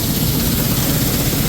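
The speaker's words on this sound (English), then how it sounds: "it's literally just idling the tractor at like 650 RPM" A large tractor engine idles at about 650 RPM while driving the PTO, a close, steady low rumble filling the whole moment with no talk.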